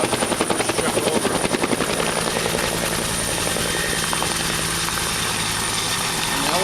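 Helicopter rotor chop and engine whine as the aircraft lifts off, loud and steady with a strong rhythmic beat in the opening seconds that eases as it pulls away, with a voice faintly under it.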